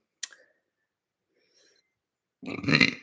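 A single close, rough burp from a person lasting about half a second, following a sharp click and near silence.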